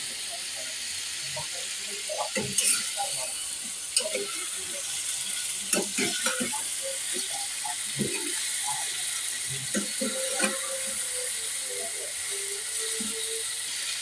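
Fried lentil fritters and eggs being stir-fried in a spice mix for a curry, with a steady, fairly loud sizzle and scattered scraping and clicking knocks of a spoon against the pan throughout.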